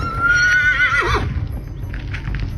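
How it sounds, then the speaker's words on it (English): A horse on a ranch lets out a loud, close whinny with a wavering, falling pitch, followed by quieter hoof and movement sounds. "horses on the ranch often just stare toward the small cemetery as well."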